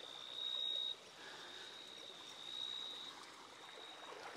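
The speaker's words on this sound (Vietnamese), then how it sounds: "đi ngược lên cái con suối nhỏ này đây" A small mountain stream in a forest flowing upstream of a waterfall, a steady, close wash of trickling water with a faint thin whistle-like tone over it, continuous and without any talk.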